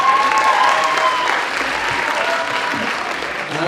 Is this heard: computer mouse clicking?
no